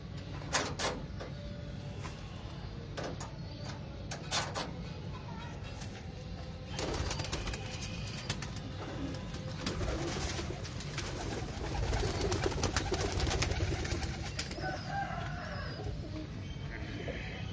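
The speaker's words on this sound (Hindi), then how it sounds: "अभी एक दो और कबूतरों का शौक करवाते हैं" Pigeons at a rooftop loft coo and flutter in a continuous low murmur, with several sharper wing claps or door knocks early on, steady and fairly close throughout.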